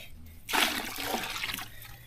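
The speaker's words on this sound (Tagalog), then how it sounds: "Kaya lagyan natin to ng tubig." Water poured from a container into another container outdoors, a brief splashing gush that starts abruptly after a short pause and tapers into trickling, close and moderately loud.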